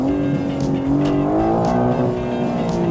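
A BMW M3 Competition engine pulls hard in M Dynamic mode, its loud, rising exhaust note climbing steadily in pitch through a short burst of acceleration.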